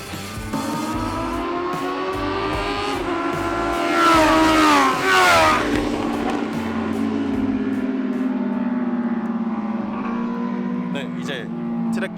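Honda CBR1000RR-R Fireblade SP superbikes lapping the KIC circuit in Yeongam, their engines droning steadily with a louder, rising-and-falling pass in the middle, and voices faintly underneath.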